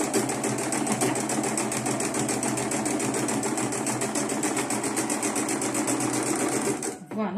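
A sewing machine stitching a faux leather spoon pouch runs in a fast, steady, loud mechanical chatter for about seven seconds, then stops abruptly near the end.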